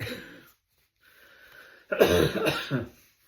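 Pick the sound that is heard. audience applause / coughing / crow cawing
coughing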